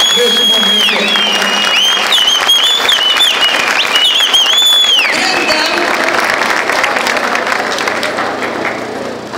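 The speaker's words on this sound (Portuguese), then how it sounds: "Então eu queria pedir uma salva de palmas aos advogados que ajudaram o Fábio com a gente nesse momento" An audience claps loudly for lawyers at a gathering welcoming a fighter's arrival, with rising and falling whistles over the first half and people talking and cheering through the clapping, which eases toward the end.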